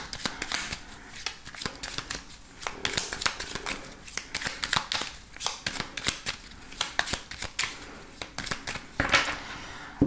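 A deck of tarot cards is shuffled and cut over about ten seconds, giving continuous crisp riffling and slapping with sharp snaps throughout, soft and close with no speech.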